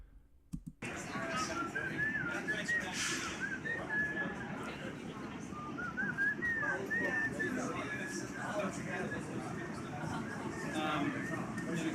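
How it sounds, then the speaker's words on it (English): Eerie, wavering whistling drifts over a steady background hum, rising and falling in slow glides while voices murmur faintly underneath. "Ominous whistling, dude."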